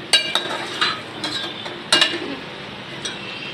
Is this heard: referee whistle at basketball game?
no